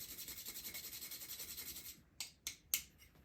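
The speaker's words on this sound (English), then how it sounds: "And our final aromatic on there is some freshly ground nutmeg." Fresh nutmeg grated over a Bird of Paradise cocktail, a steady fine rhythmic rasping for about two seconds, then a few short separate scrapes, quiet and close with no talking.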